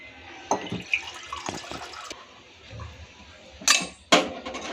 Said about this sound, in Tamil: இப்போ நான் ஒரு 200 ml தண்ணி ஊற்றிருக்கிறேன்.